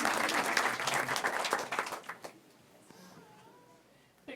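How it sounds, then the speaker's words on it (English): A school board meeting audience claps for a student being recognized, a brief burst of applause that thins out and fades within about two seconds, leaving quiet room tone. "let's clap for him"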